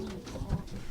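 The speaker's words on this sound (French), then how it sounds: "les pigeons sont répartis par compartiment dans le pigeonnier" Pigeons coo in a racing pigeon loft where the birds are housed in compartments, a short soft murmuring coo close by with faint background rustle.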